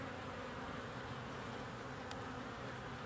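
Honey bees swarm around beehives and nucs while comb with queen cells is cut out for splits, a continuous even buzz filling the air at close range without speech.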